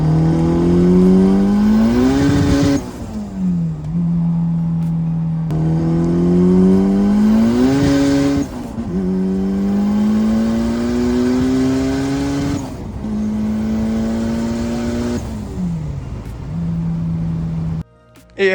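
A hatchback car with a welded rear weight plate and new rear calipers is driven, its engine revving up and down through repeated gear changes, loud and close throughout.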